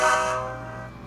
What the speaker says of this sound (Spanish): Aquí tenemos el botón de acelerar, frenar, claxon, que suena como un ferrocarril.